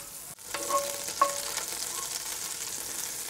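Butter sizzles steadily in a hot Dutch oven on a barbecue, a soft, continuous crackling hiss with a couple of small clinks near the start.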